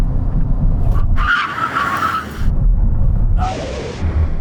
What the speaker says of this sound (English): Finally then, we're going to have a brake test from 70 miles an hour. When we reach the line, full emergency stop.